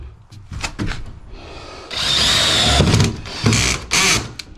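Power drill driving a 2-inch epoxy screw into a stud inside an enclosed trailer: short stuttering bursts of motor whine and grinding, then a longer sustained run, then a few more close, loud pulses.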